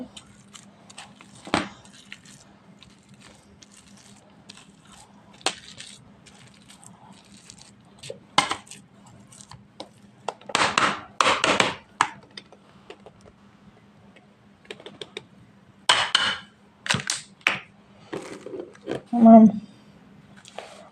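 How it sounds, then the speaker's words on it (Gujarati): Boiled potatoes and peas being mashed by hand for a spicy filling, producing intermittent soft thuds and squelchy pressing bursts over a low steady hum, close up, with quiet stretches between strokes. "આપણે બટાટાનો સૂંદો કરી નાખીએ"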